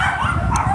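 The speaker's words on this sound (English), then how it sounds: "Oh, we got some unhappy dogs." Unhappy dogs bark and whimper on a street in downtown Daegu, South Korea. The sound is loud and steady under a dense wash of city noise, with a brief sharp yip standing out.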